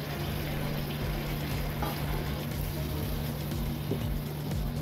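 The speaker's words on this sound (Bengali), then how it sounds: "এবার আমি ডালটা দিয়ে দিচ্ছি।" Chana dal tipped into a pot of spiced potatoes cooking for a vegetarian Bengali dal, a steady bubbling sizzle with a low hum and a few soft knocks and splashes, close and continuous.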